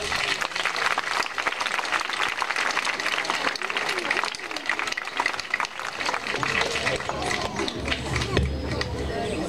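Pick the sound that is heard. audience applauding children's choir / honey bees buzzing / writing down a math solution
audience applauding children's choir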